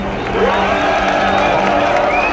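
Crowd cheering and applauding at an announcement that The Pirate Bay is back online, a dense burst of many voices lifting in jubilation and holding steady at close range.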